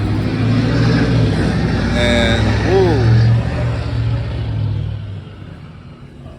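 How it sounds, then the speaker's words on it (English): A loud truck rumbles past on a street outside a store at night, its engine roar swelling and holding, with a brief pitch sweep as it passes, then fading away; a voice speaks briefly near the start. "did you catch that truck? That thing was loud."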